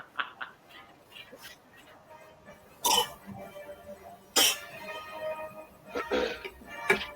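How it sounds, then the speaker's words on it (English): Two sharp throat-clearing bursts cut through quiet background chatter and rustling, followed by softer coughing sounds near the end. "Oh boy, clear his throat."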